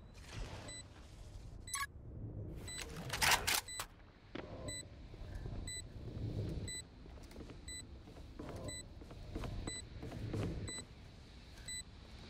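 A planted spike in a video game beeps in a steady, evenly spaced rhythm of high, thin tones, running beneath busy gameplay noise, footsteps and scattered impacts.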